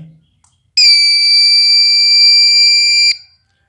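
A loud, piercing electronic buzzer powered from a motorcycle battery sounds one continuous high tone for about two and a half seconds, then cuts off, close and alone.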